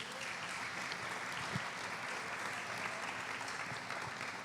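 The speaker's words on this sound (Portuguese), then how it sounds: "Podem aplaudir." An audience applauds at a literary festival session, steady mid-level clapping that holds evenly throughout, with a few scattered louder claps.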